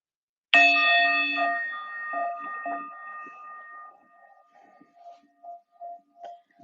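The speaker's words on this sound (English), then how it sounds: "You're going to hear a bell at the start and at the finish of the 3 minutes." A meditation timer bell is struck once to mark the start of a rest period. Its bright ringing tone rings out clearly alone in a quiet room and fades slowly over several seconds.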